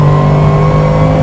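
Bentley race car engine at steady high revs on a damp Oulton Park circuit, a loud continuous onboard drone with a strong low tone held throughout.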